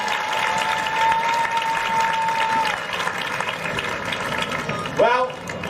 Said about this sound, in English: One more round of applause for Dr. Amir Whittaker.